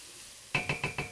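Ground turkey browning in a pot for southwest turkey soup: after a faint sizzle, four evenly spaced stirring scrapes ring out, each with a light metallic clink of the utensil.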